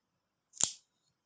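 A single sharp snip of scissors cutting through a plastic straw, close and isolated against silence.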